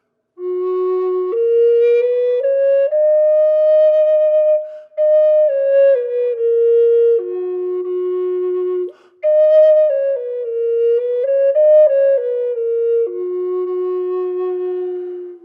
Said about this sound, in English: That works on most contemporary Native American flutes. It sounds like this.